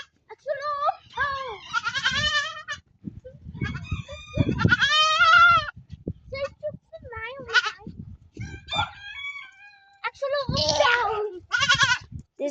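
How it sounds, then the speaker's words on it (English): A female goat with a small horn bleats several times in close, loud wavering calls, with short pauses between the cries. "Here's the goat."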